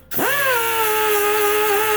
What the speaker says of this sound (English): now I'm going to work this boss a little bit with the sanding roll from the valve side face